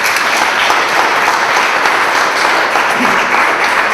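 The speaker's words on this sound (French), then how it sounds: "Alors, Eliane, je pense qu'elle mérite une main d'applaudissement" Dense, loud applause from a crowd at a community culture-day gathering, a continuous roar of clapping hands holding steady throughout without pause.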